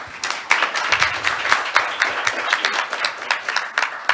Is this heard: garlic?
no